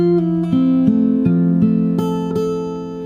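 Fingerstyle acoustic guitar picks one bar of a song, a short run of clear plucked notes and chords struck in steady succession, close and fairly loud with no talking.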